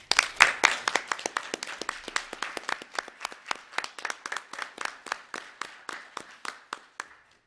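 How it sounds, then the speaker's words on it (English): A school board meeting's attendees give a round of applause for an honoree: a modest, steady clatter of many hands clapping in a room, thinning to a few sharp claps before stopping. "We have a round of applause for Mr. Santini."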